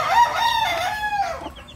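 Chickens and chicks at a poultry seller's place, with a single loud, close rooster-like crow or squawk sweeping over about a second and a half, and softer fowl sounds trailing off after it.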